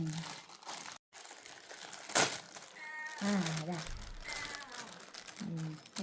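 A taped plastic wrapper on a cream bun crinkles and crackles in short bursts close by, with one sharp tearing crunch, while people talk over and between the rustling.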